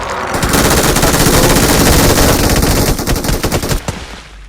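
Rapid automatic gunfire from a multiplayer shooting video game, loud and sustained bursts of machine-gun fire packed tightly together, thinning out into a few scattered shots near the end.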